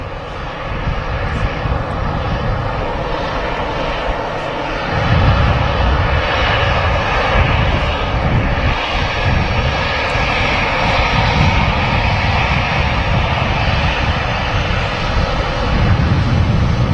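EasyJet Airbus A320 engines at Manchester Airport rumble and whine steadily and loudly, the roar swelling a few seconds in and holding as the jet passes close by, with no voices.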